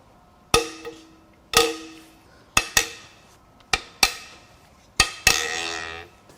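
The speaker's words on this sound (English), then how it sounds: "Now it's time to crack the head bolts loose." Metallic cracks and clanks ring out as a wrench breaks loose head bolts on a Ford Mustang 5.0 Coyote engine during a teardown, about eight sharp hits spaced unevenly, each with a brief ringing decay.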